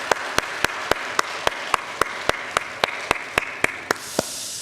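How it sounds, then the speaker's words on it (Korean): Church congregation clapping in unison during a Sunday worship service, about fifteen sharp, evenly spaced claps in a steady rhythm, loud and close, with no talking. "우리 오늘을 주신 하나님께 우리 영광의 박수를 올려드리십시다."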